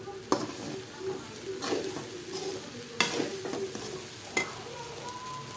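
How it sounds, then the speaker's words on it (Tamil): Ragi vermicelli being stirred in a pan, with scraping strokes and occasional sharp clinks of the utensil against the pan over a faint sizzle, at an irregular pace. "இப்போ பாருங்கள், நல்லா கிளறிக்கலாம்."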